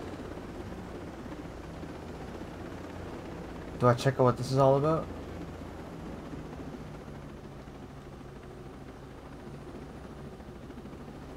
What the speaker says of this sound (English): It just feels so smooth flying these helicopters in this game.